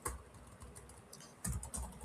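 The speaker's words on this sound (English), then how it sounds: "You can all see how bad I am at typing." Irregular clusters of quiet keystrokes clatter on a computer keyboard, nearby and uneven, with brief pauses between bursts and no speech.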